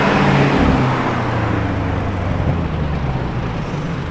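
Black Lamborghini Urus S driving past: a loud, steady engine and road rumble close by that eases slightly as it goes on, with no one talking.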